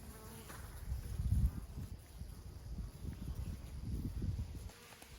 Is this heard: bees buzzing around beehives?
yes